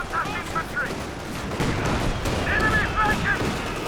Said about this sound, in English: Red Army artillery ready to fire.